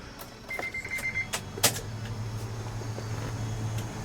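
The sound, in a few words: car being switched on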